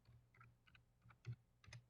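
Close typing on a computer keyboard with long fingernails, a run of light irregular key taps with a few louder strokes, over a faint background hum.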